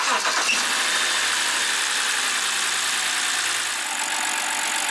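A BMW F10 528i being started after an oil leak repair, settling into a steady, fairly loud idle with a broad engine rumble that carries on evenly throughout, with no talking.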